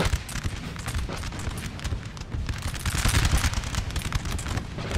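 Militia musket volleys in the Napoleon Total War video game, dense crackling gunfire from many muskets rolling continuously with a steady boom underneath, loud and close.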